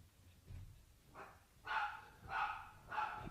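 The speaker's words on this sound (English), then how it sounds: "I got a dog barking like crazy." A dog barks several times in quick succession, sharp yaps that grow louder toward the end, heard alone and fairly close at modest volume.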